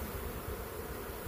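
Honey bees fanning at a small nuc hive give a steady, dense hum, close and even throughout, with no voices.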